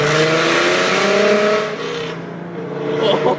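A V6 Ford Mustang with a full Borla exhaust and no catalytic converters revs hard and raspy close by, a loud roaring burst that dips briefly and climbs again.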